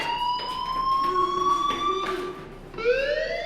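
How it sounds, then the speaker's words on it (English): A synthetic fire alarm in the video game Life is Strange sounds in repeated electronic beeps, then shifts to a rising wail, steady and fairly loud with no voices. "do you hear that fire alarm?"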